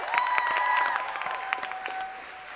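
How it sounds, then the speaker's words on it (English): Audience applause at a high-school arts singing competition final, a broad wash of clapping with a few whistles that tapers off toward the end, fairly distant. "Please a round of applause for how amazing they are."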